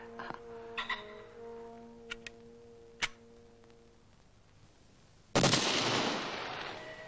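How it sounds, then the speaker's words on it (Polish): A gunshot fired during a hunt: a sharp, loud broadband blast that trails off into a sustained rushing decay, preceded by several faint clicks over a soft tonal background. "Strzał dobry"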